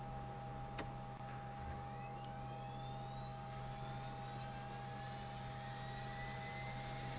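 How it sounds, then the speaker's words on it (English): A Learjet 35A's number two jet engine spools up during start in a flight simulator, a steady hum under rising turbine whines that climb gradually over several seconds, with a brief click near the start. "start engine 2"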